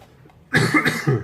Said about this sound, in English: I've got a bit of a cough